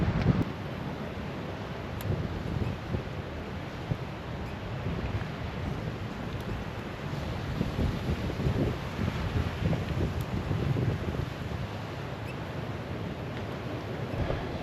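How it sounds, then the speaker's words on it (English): Ocean waves wash onto a rocky, slippery point at low tide on a sunny Nicaraguan coast, a steady broadband roar with wind buffeting the microphone, continuous for the whole stretch with no talking. "The sound of the waves."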